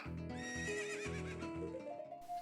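A horse in Ocarina of Time 3D gives one loud, clear neigh that rises and trembles over game sound, with clip-clopping hooves running under it.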